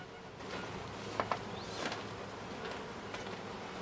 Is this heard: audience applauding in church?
no